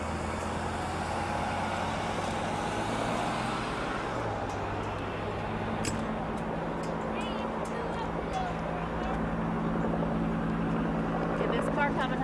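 A helicopter hovers over a South Dakota monument, heard as a continuous low rotor drone and engine rumble throughout, with outdoor wind noise and people talking nearby.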